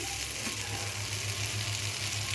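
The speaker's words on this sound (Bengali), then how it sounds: "আবার আমি এটা ভালো করে এটার সাথে এঁচোড়গুলো দিয়ে আবার 2-3 মিনিট ভালো করে কষে নেব" Young jackfruit frying in a pan gives a constant, even sizzle, close and moderately loud, over a low steady hum.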